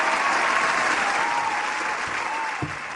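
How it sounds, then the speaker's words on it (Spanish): Sustained applause from a live studio audience on an Argentine entertainment show, a dense steady wash of clapping across the whole stretch, with a faint voice trailing over it. "fuerte el aplauso por favor"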